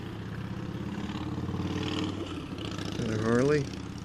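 A Harley motorcycle passes a scooter rider on the road, with a mid-pitched engine drone under wind noise that swells and rises sharply near the end as the bike goes by, with talk in places.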